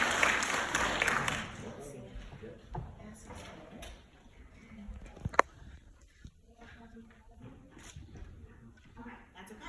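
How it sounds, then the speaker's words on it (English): Audience at a university class orientation applauding, a burst of clapping that fades within a couple of seconds into room murmur, a few knocks and a sharp thump, with people talking. "So round of applause."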